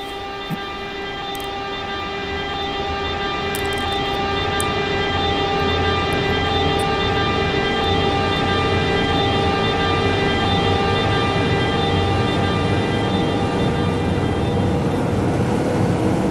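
A train accelerating at full throttle in Train Simulator 2019 on the Frankfurt to Riedstadt run, a steady, loud motor whine with layered tones that builds and then holds over rolling wheel noise, with no voices.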